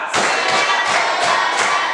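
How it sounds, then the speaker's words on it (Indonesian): A classroom of children claps hands together in a counted sequence, producing five loud, evenly spaced bursts of clapping roughly every third of a second apart, close and busy with no speech over them. "Oke, tepuk tangan untuk kita semua. Tepuk 1, tepuk 2, tepuk 3, tepuk 4, tepuk 5."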